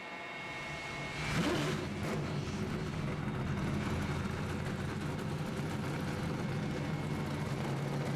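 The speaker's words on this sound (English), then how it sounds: "Drivers, start your engines." NASCAR Camping World Truck Series trucks fire up their engines at the start of the 2009 Mountain Dew 250 at Talladega, bursting into a loud, sustained roar that continues steadily throughout.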